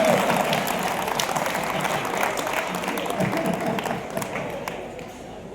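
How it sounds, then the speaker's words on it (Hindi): At a live Hindi comedy kavi sammelan in Rishabhdeo, an audience breaks into applause that starts strong and thins out over several seconds. A voice can be heard in the mix. "तालियां अच्छी आ जा रही है।"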